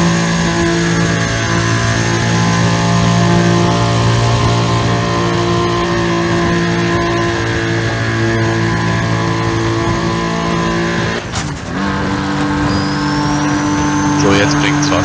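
A race car held in fifth gear in Need for Speed: ProStreet drones loudly and continuously at high revs, with a brief dip and gear change near the end before the engine picks up again.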